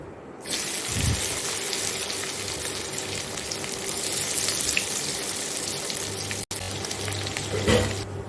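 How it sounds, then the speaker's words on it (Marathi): Dried Bombay duck fish fries in hot oil, giving a continuous loud crackling sizzle for several seconds, close by, with a sharp clunk near the start and a brief break near the end. "आता आपली दुसरी बॅच आहे बोमलाची ती तळून घेऊया"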